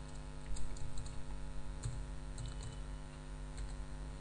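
Soft, quick clicking of keys on a computer keyboard while entering data in an Excel worksheet, scattered light taps over a steady low hum, faint and close with no speech.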